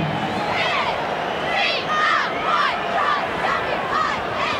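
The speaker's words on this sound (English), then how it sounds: "the crowd were chanting Wally Lewis" A large rugby league crowd at the 1990 Canberra versus Brisbane preliminary final chants a player's name in a loud, rhythmic, repeating pattern, filling the stadium with a constant roar beneath the chant.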